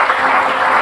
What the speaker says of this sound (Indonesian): Berikan tepuk tangan dulu buat mereka semua.